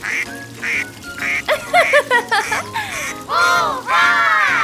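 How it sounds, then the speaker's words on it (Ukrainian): Loud, repeated duck quacks in quick bursts, some drawn out and nasal, close by with no talking. "качки."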